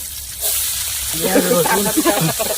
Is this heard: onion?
yes